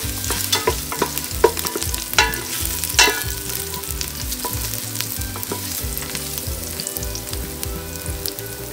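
Ginger and garlic fry loudly in a pan for chicken tinola, with a steady sizzle and frequent scraping strokes of a spatula stirring through it, no voices.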